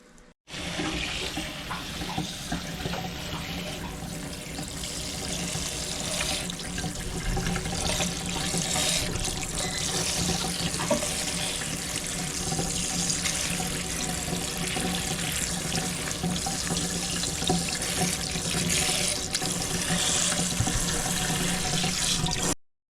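Cool tap water runs steadily into a sink for rinsing freshly picked wild mushrooms, a close, even splashing rush lasting the whole stretch with no talking.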